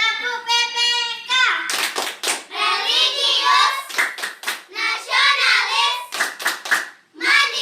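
Children perform a rhythmic hand-clapping game, tepuk PPK, in a classroom, with sharp bursts of claps alternating with their chanted words, close and lively.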